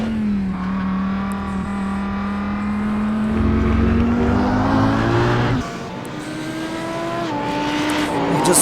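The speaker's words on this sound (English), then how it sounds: "that Audi does not sound like it's screaming much at the moment" An Audi race car in the iRacing sim at Road America, its engine droning steadily and lifting through revs, dropping sharply at one point then building again, loud and continuous with no talk.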